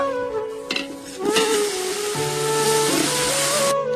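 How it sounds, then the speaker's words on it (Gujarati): Ginger, garlic and green chillies fry in a pan for a village-style Gujarati cashew and gathiya curry. Close stirring scrapes run over a sizzle, with some clanks and ringing tones from the pan, and no talk. "હવે આપણે આદુ લસણ મરચા નાખી દીધા છે. હવે આપણે એને શેકાવા દઈશું થોડીક વાર."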